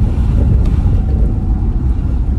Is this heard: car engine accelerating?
yes